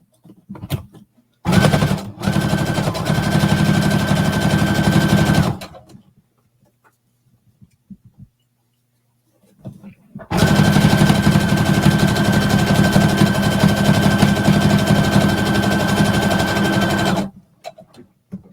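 Top stitching on a sewing machine comes in two long loud bursts of rapid, steady whirring close by, each lasting several seconds, with a quiet pause and a few small clicks between them.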